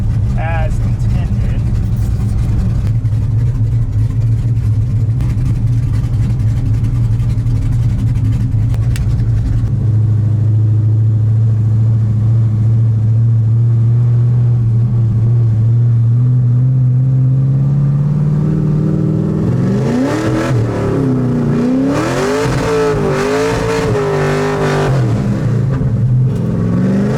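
An LS3 V8-swapped Mazda Miata running nitrous idles loudly, then revs hard and accelerates with rising and falling engine sweeps near the end, a voice speaking over the engine.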